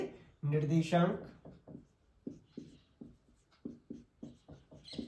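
Chalk or marker scratching out coordinates on a classroom board during a coordinate geometry lesson, a run of short rhythmic strokes in quick succession following a brief spoken phrase from a teacher.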